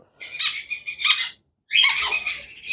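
A conure parrot gives two bursts of harsh, high-pitched squawking calls close by, separated by a short pause.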